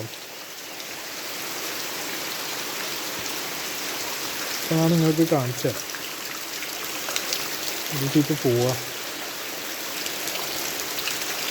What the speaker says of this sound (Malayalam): നമുക്ക് ഞാൻ കാണിച്ചു തരാം മഴ പെയ്യുന്നത്